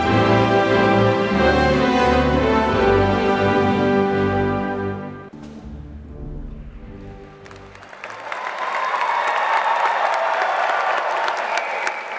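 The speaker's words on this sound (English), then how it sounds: "Let's give one more round of applause for our newest master's graduates" Applause for new master's graduates at a 2025 college commencement ceremony, loud crowd clapping that swells in the last few seconds after a stretch of sustained tonal music or organ underneath.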